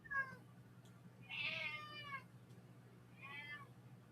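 A cat meows three times, faint and somewhat distant. The second call is the longest and most drawn out, and the calls sit over a low steady hum with no speech.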